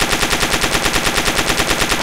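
PM73 RAK submachine gun in a video game firing a continuous rapid burst of about twenty-five rounds, loud and evenly spaced with no pauses.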